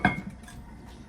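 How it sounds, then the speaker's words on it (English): A metal lid lands on a pot of simmering ground beef and bean chili with a single sharp clank that rings briefly and fades. "I am gonna put a lid on it to keep all that moisture in there"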